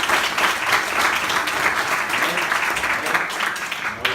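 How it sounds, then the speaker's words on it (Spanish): Church congregation applauding a man named Ezequiel after he is asked to stand, steady broadband clapping from many hands throughout, fairly close and continuous with no speech over it. "Le damos un aplauso a Ezequiel también"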